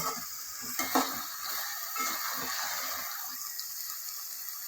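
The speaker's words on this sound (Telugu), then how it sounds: "చూడండి ఎట్లా ఉడుకుతుంది. అట్లా నూనె పైకి తేలాలి." A broad bean and tomato curry simmers in oil in a pan with a soft, fairly quiet bubbling sizzle. A few utensil knocks come early on, and no one talks over it.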